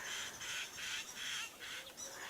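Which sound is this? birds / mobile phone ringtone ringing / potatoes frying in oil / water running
birds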